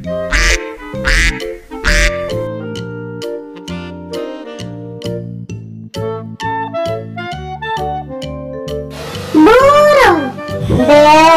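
Loud, nasal duck quacks burst out as an animal sound effect in a children's animal-names lesson. Bright backing music plays underneath, and a louder cluster of calls comes near the end.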